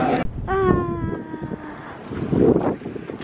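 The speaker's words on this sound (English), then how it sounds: "It's so windy." Cold wind buffets the microphone outdoors in a city street, rumbling in uneven gusts, loud and close, with a tonal sound and voices partly audible.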